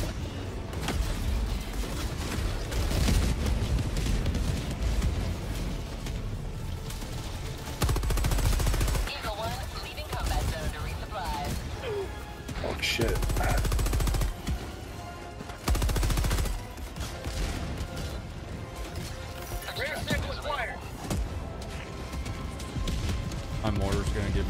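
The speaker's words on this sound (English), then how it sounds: "Exposing myself to enemy fire." Bursts of rapid gunfire and shooting from the video game Helldivers 2 rattle in repeated volleys, with people talking over the combat noise.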